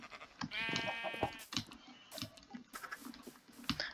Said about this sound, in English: Wait, we also can breed some sheep.